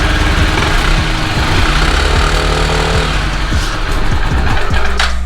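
A Yamaha Zuma scooter idling with odd noises from its CVT, a close, loud, steady engine drone with uneven pulsing and clattering running continuously without pause.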